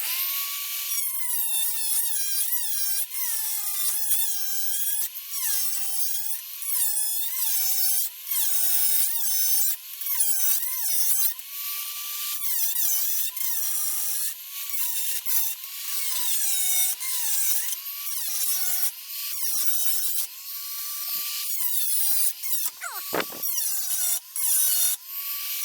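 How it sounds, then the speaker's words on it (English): A die grinder cuts through a metal part during a twin-turbo build on a right-hand-drive Nissan 370Z, giving a loud, continuous high-pitched whine that rises and dips as it bites, with a brief pause and slowdown near the end. "the die grinder will make short work of it"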